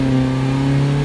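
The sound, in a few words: Mazda MX-5 ND with Fox exhaust revving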